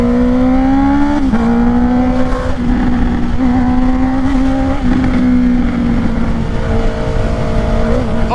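A Honda CBR650R motorcycle with a Black Widow exhaust and quick shifter, revving loud and close with a steady engine howl broken by brief dips and sharp pops as it changes gear.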